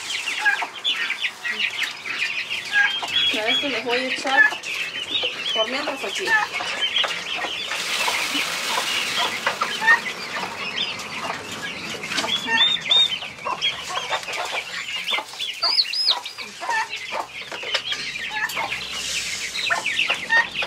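Hens and a rooster cluck steadily on a farmyard while feed is scattered, with a turkey somewhere nearby; someone talks over the birds throughout and occasional wing flaps break in.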